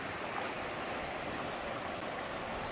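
An ice-cold river runs through a Norwegian national park, giving a steady, close, broadband rush of flowing water with no break and no voices.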